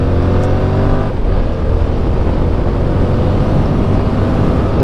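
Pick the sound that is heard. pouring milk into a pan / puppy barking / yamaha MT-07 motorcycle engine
yamaha MT-07 motorcycle engine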